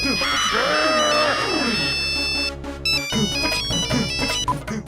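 A mobile phone ringtone plays loudly as a repeating electronic melody of bright beeping tones, with faint voices underneath.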